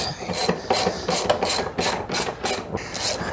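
Ratchet wrench clicking in quick bursts of pawl ticks while tightening bolts on a pannier and top rack fitted to a Honda NC750X motorcycle, close and crisp, with short pauses between strokes.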